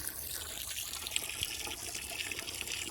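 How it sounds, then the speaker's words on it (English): Water runs steadily from a tap into a pig's water dish, a continuous splashing trickle and gush close by with no talking. "Fill up her water dish. That's what I'm doing right now."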